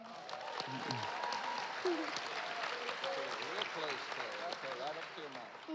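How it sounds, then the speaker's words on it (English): Applause rolls through a crowd at a youth ministry fundraising banquet, steady and fairly distant, with voices talking and calling out over the clapping throughout. "let's give a courage clap"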